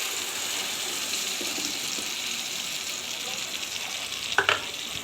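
Blended tomatoes hit a hot pan for a tomato sauce with tripe, and a steady sizzle and hiss continues, followed near the end by a brief sharp clatter of stirring.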